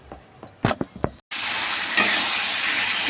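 Food cooking in a pan, a few close clacks of a utensil stirring, then a sudden burst of loud steady sizzling that continues to the end.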